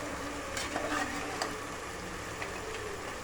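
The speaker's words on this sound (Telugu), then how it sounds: "మటన్ వేసి మంచిగా కలుపుకున్నాను" Boiled mutton is stirred in a pan for biryani, a steady low sizzle under soft scraping and a few light clinks of a spoon against the pan.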